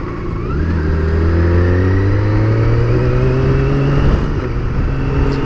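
A 2017 BMW K1600GT motorcycle accelerates hard through its gears with a quick shifter. The engine rises loudly and up close with several quick pitch steps between shifts, and no voice is heard.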